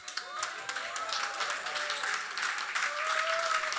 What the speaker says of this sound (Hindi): please give her a standing ovation